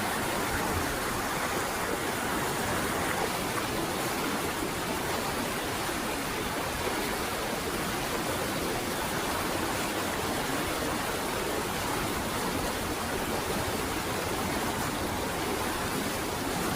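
Artesian well water pours steadily down a wash in a road cut at Verbena, Alabama, a loud continuous rushing broadband flow close by, unbroken for the whole stretch with no talking.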